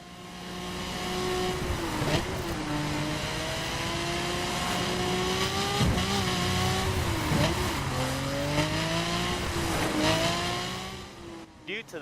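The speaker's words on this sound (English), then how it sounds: "hear and experience the sound of a monstrous V8 engine" A big V8 car engine drones steadily while driving, rising and falling in pitch through several gear changes, loud and close throughout.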